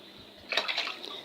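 Brine poured into jars of cucumbers being pickled for winter, a short, faint splashing trickle of liquid in the second half of a quiet moment.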